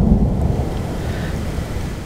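Thunder from an approaching thunderstorm rolls across the Rocky Mountains as a deep, continuous low rumble, loud and steady with no voices over it.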